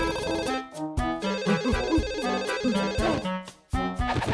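A telephone rings with a melodic electronic ringtone, a loud repeating tune of bright tones broken by brief pauses, with no talking over it.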